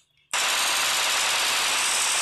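Sudden burst of rapid automatic gunfire from the Bullet Force shooter game, loud, dense and continuous for about two seconds after a brief quiet start.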